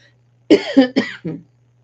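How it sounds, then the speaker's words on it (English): A quick run of four close coughs, harsh and hacking, over a low steady hum. "Sorry, I didn't mean to cough like that."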